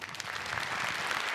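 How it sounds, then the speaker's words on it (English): Steady, dense applause from a startup awards audience, loud and continuous throughout with no voices over it. "Big applause."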